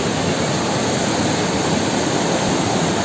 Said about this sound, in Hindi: अगर आप फ्लो देखें अभी इस रिवर की या रादर वाटरफॉल की, बहुत ही तेज़ है